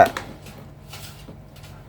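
Isan-style papaya salad (som tam) being mixed together, with a short clatter of utensils at the start, then faint, sparse scraping and knocking with no talking.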